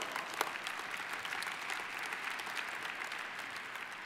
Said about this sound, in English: Yes, that deserves a big round of applause.